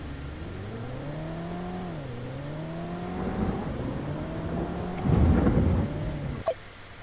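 Rain and thunder in the PS1 game World's Scariest Police Chases: a steady wash of rain and low thunder rumble sit under a droning car engine whose pitch dips and rises, followed by a louder burst near the end.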